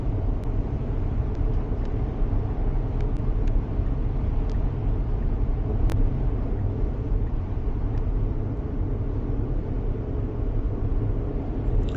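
Steady road and engine rumble from inside a Tesla Model X cruising on Autopilot, a continuous loud broadband drone with faint ticks, no speech.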